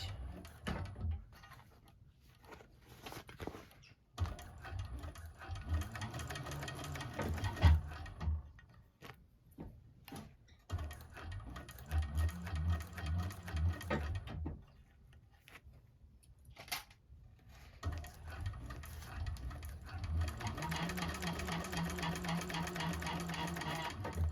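A 1341 cylinder arm sewing machine stitches a bag at a 4.5 stitch length, running in steady mechanical bursts with short pauses between seams.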